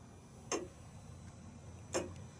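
An early American church tower clock ticks slowly, two distinct soft ticks about 1.4 seconds apart over a quiet hum.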